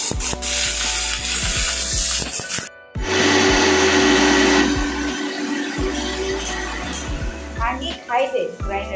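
Mixer grinder making ginger garlic paste, a loud electric whine that runs in bursts with brief stops and restarts, mostly alone, with someone speaking near the end.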